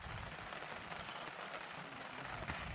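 Heavy rain falls on a mountain trail on Mt. Kanlaon in Negros, a dense, steady hiss with no pauses, fairly faint and heard alone without talk.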